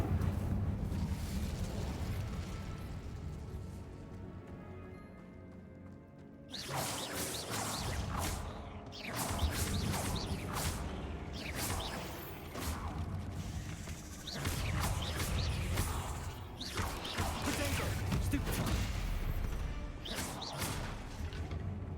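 Spellcasting combat in Hogwarts Legacy, with Depulso and Incendio blasts giving repeated booming thumps, whooshes and crashing impacts, a quieter rumbling stretch first, then a loud, dense run of hits.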